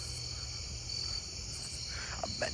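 A round tip conehead katydid buzzes in a continuous high whine close by, over a chorus of other insects, with a couple of soft knocks at the end.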